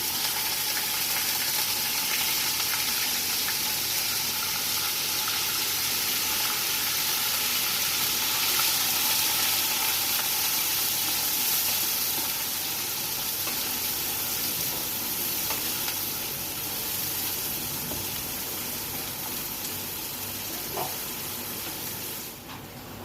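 Onion paste sizzles steadily in a hot pan, frying for a Bengali doi potol chingri dish. The crackle is constant and moderately loud, with no voices.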